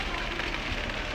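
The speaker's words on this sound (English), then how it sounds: "That rain killing me." Steady rain falls throughout, a dense continuous hiss at a close, even level with no breaks, in a field setting with a voice speaking faintly under it.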